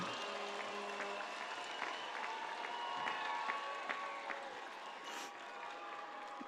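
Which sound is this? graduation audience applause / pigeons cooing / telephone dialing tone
graduation audience applause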